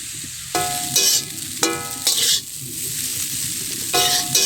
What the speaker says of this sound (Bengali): চাউমিনটা আবার 2-3 মিনিট খুব ভালোভাবে ভেজে নেব।